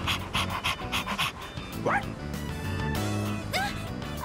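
A dog in Persona 3 Reload pants rapidly and gives several short barks and yips, close and loud, followed by whimpering yelps, while a voice briefly speaks over it.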